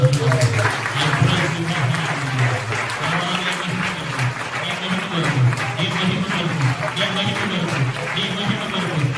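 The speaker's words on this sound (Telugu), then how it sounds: "చేతులెత్తి చప్పట్లు కొట్టి ప్రభువుని" A church congregation claps hands together during a Sunday service, a dense, steady burst of applause with a voice speaking over it.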